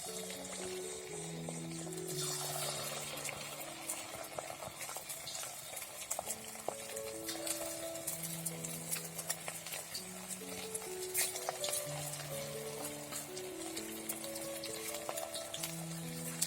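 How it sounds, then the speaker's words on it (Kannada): Small kebabs fry in hot coconut oil, a soft crackling sizzle with occasional sharper pops, partly under steady background music. "ಈಗ ಎಣ್ಣೆ ಬಿಸಿ ಆಯಿತು. ಸಣ್ಣ ಸಣ್ಣ ಕಬಾಬ್ ಹಾಕ್ತಿದ್ದೀನಿ."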